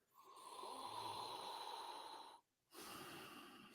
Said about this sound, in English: Oh, it took 2 sniffs.